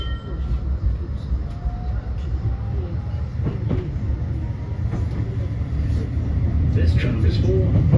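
A Blackpool tram bound for Fleetwood Ferry rumbles steadily along its tracks with a low, continuous roar, faint clicks and squeals rising over it as it builds slightly toward the end.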